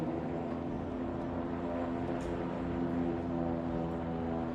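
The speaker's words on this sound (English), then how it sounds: "Not a big fan that this helicopter's right here" A helicopter hovers overhead in the Project Zomboid survival video game, producing a steady, low rotor drone that holds evenly and fairly faint throughout, with no talking.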